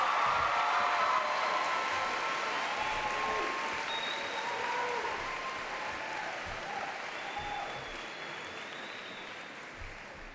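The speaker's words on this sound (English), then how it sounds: "give everyone that out here who has supported you in your journey a big round of applause" Graduation audience at a McKay High School ceremony for the class of 2014 applauding in a steady, dense wash of clapping that fills the hall and slowly fades, with faint crowd murmur beneath.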